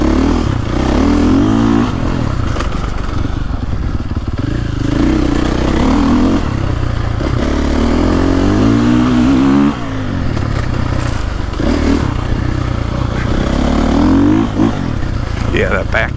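A 2022.5 KTM 450 Factory Edition dirt bike with updated rear suspension rides a wooded trail, its loud engine revving and dropping continuously up close as the rider shifts and accelerates.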